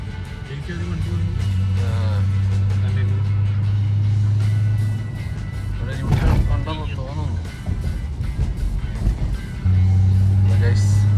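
A Nissan Skyline GT-R R34 with Japanese parts idles with a steady low drone that dips briefly midway and then returns, heard beneath someone talking close by.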